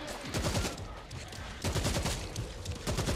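Turret gunfire in the video game World War Z rattles in continuous rapid bursts, loud and dense, with a brief lull near the middle before the firing resumes.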